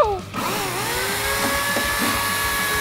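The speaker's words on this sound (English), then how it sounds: "I broke our chainsaw." Chainsaw running close by with a steady high whine after a brief sputtering start, buzzing continuously without talk.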